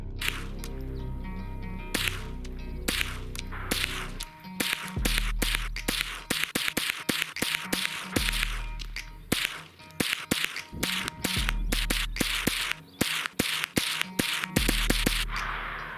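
Ruger 10/22 rifle shots at a target ring out as a rapid series of sharp, loud cracks, some in quick succession and some spaced apart, close to the shooter with low rumbling echoes between.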